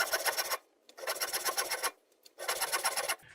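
A hand panel saw cutting a long angled line through wood for a half lap joint, three bursts of steady rasping strokes separated by short pauses, close and fairly loud with no talk.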